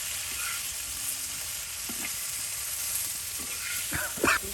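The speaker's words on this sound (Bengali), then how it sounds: "আলু তার সাথে পটল একসাথে ভেজে নিয়ে যদি রান্না করা হয়" Pointed gourd and potatoes frying together in hot oil in a village kitchen on a rainy day, a steady close sizzle throughout with a few clinks and stirring scrapes near the end.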